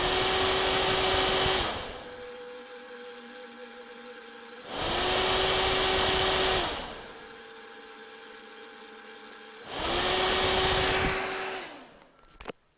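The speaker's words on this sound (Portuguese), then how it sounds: "você vai verificar se o ventilador está funcionando normalmente. Ele vai ligar, a partir do momento que eu der o start aqui, ele vai ligar" The radiator cooling fan of a Yamaha XT 660 R motorcycle switches on and off in a diagnostic test. It gives three loud, steady whooshing whirs of about two seconds each, spinning up and down, over a quieter steady hum, with no talking.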